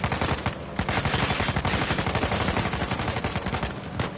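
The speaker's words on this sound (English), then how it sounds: "Wait, who's shooting at me?" Sustained automatic gunfire in the action game Uncharted 4, a dense, loud stream of rapid shots with brief gaps and overlapping bursts throughout.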